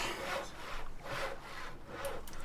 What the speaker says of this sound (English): Now I'm stuck here, sawing all day to build a palisade that's of no use to anyone.